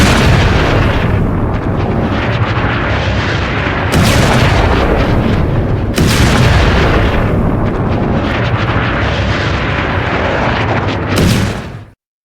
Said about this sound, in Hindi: ये एक और हमला है, इजरायली हमला जो हिजबुल्लाह के ठिकाने पर है।